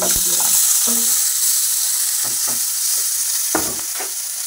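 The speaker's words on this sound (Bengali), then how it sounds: "এবার আমি মাছগুলো সবগুলো তুলে নেব, বাদ বাকি যে মাছগুলো রয়েছে সেগুলো সব ভেজে নেব" Khalshe fish frying in a pan of oil, a steady loud hiss and sizzle running throughout, with a few scrapes and clinks of a spatula stirring or turning the pieces.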